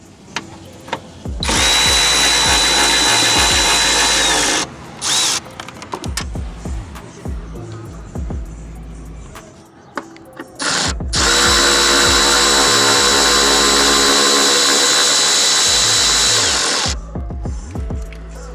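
Power tool, likely a drill-driver with a 10mm socket, removing the two fasteners on a Jeep's windshield washer fluid tank: two long loud whirring bursts with short ratchety stops between them, close up, no talking.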